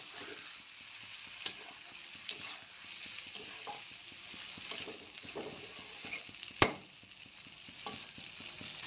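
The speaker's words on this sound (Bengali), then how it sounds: "জিরে গুঁড়ো, আর লাগবে ধনে গুঁড়ো। ভালোভাবে নাড়াচাড়া করে নেব একটু।" Pointed gourd with cumin and coriander powder is stirred in a hot pan: a soft sizzle under repeated spatula scrapes and clinks, with one sharper knock near the end, close and without talk.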